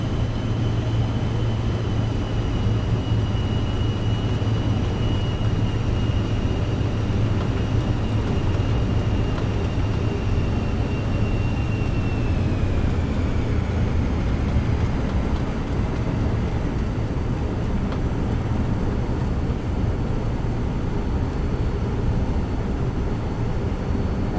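Steady loud cabin drone of a Cirrus Vision Jet in flight, a continuous broadband engine and airflow roar with a faint high whine that dips slightly midway, no talk over it.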